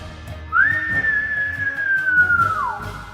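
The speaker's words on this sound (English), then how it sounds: "Shrill whistle came from the three boats" A single long, shrill whistle from boats holds one high steady note for about two seconds, then slides downward, heard clearly over low background noise.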